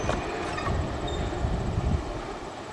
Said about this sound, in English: Symbol on that train is Norfolk Southern 315.